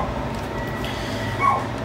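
A dog barks faintly in the distant background, one brief yelp rising near the end over a steady low room hum, with no one talking.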